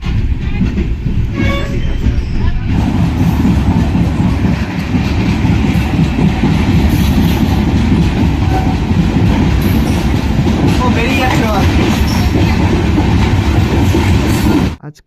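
A train on the Kolkata to Darjeeling route runs along the tracks with a loud, continuous rumble and rhythmic clickety-clack heard from inside the carriage, steady from start to finish.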